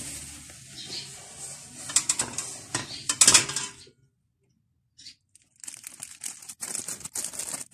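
An orange cake, freshly baked, is eased out of its baking tin with a clatter of metal pan and scraping, rattling knocks that stop abruptly, pause in near silence, then resume as busy clinking and tapping.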